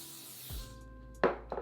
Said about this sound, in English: I take some hairspray from Beach Waver and I just spray everything.